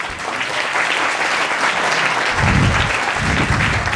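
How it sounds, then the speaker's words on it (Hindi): Loud, sustained applause from a coaching classroom of students at a Christmas visit, dense clapping filling the room throughout with some low thumps near the end. "जोरदार ताली बजा दीजिए।"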